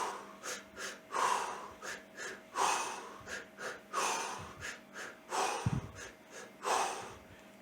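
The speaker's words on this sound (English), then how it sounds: "I'll kind of do a breathe in, exhale," A runner breathes rhythmically in a steady in-and-out pattern, each inhale and exhale loud and close, with airy puffs and occasional snorting or gasping sounds and no talking.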